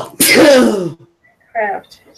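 A single loud sneeze bursts out close by, followed after a short pause by a brief spoken word.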